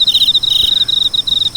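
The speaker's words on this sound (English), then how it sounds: "Put the crickets right there, dude." A cricket chirps in a loud, close, rapid pulsing trill, steady and continuous throughout, used as a comedic sound effect with no voices.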